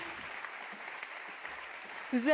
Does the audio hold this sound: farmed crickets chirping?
no